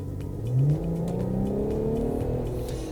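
An Infiniti Q50S engine revs and accelerates steadily, its pitch climbing through the gears with a smooth, sustained growl heard from inside the car.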